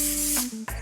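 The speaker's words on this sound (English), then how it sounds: "I'm gonna lock it in with a spray of some coconut oil." Short hiss of coconut oil cooking spray over seasoned meatballs, a sustained spray with a brief break and a second quick burst, close by.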